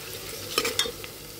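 Onions frying to golden brown in a pan, with a steady low sizzle and a few sharp stirring scrapes and clinks near the middle, close and fairly quiet.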